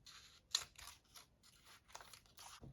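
Scissors cutting a paper sewing pattern along the shoulder, a series of crisp snipping and rustling strokes in an irregular rhythm, close but faint, with no talking.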